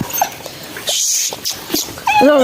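A dog whimpers and yips close by in short, uneven bursts, ending in a drawn-out, higher-pitched whine.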